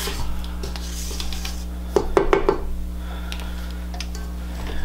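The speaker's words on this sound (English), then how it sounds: "I'm just going to scrape down the bowl just to make sure everything gets incorporated well." A spatula scrapes around a mixing bowl of creamed cookie dough, a short cluster of rasping strokes and light taps close up over a steady hum of kitchen noise.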